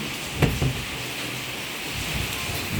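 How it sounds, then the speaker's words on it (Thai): Steady rain falling, a constant hiss with a couple of brief knocks near the start and no talking. "วันนี้บรรยากาศ ฝนตกอีกแล้วค่ะ"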